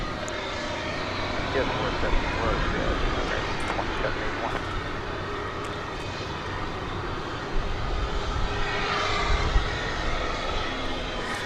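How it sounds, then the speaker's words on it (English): An Embraer 175 jet from El Paso, Texas, touches down at night on runway 18 right at DFW Airport, a steady loud engine roar filling the whole stretch while someone talks over it. "touching down on runway 18 right from El Paso, Texas. Flight 3603 at Embraer 175."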